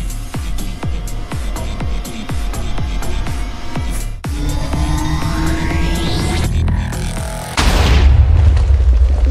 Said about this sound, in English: The TNT was too destructive. There were explosions everywhere.